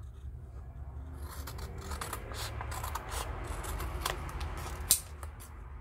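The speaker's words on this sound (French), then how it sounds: "Là, je coupe le double face qui dépasse." Scissors snip through double-sided tape during a craft build of a boot-shaped pen pot, giving soft close cuts and light rubbing over a steady low background hum, with one sharp click near the end.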